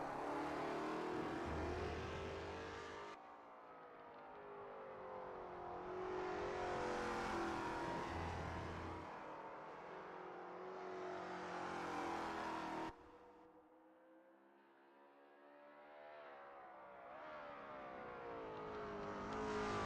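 A Lola T70 MkII Spyder race car circles Spa in a video game, its engine revving and changing pitch through shifts, loud and continuous with a brief quieter stretch midway.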